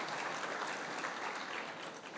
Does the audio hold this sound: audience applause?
yes